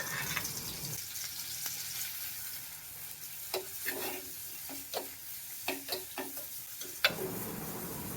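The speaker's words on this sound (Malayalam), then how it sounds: "ഉണക്ക ചെമ്മീൻ വറുത്തുകൊണ്ടിരിക്കുന്നു അത് നല്ല ഞെരിയെ വറുക്കണം" Dried prawns frying in coconut oil in a pan crackle and sizzle steadily, with repeated sharp scraping and stirring strokes against the metal.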